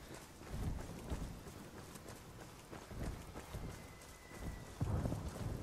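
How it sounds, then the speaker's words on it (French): Steady rain falls in the Ghost Recon video game, a continuous broadband hiss with low rumbling swells that could be distant thunder, heard alone without talk. "Il pleut bien en plus là."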